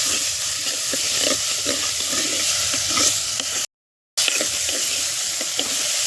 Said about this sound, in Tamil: இப்போ அடுத்து தக்காளி போட்டுக்கலாம் தக்காளி நல்லா வதங்கட்டும்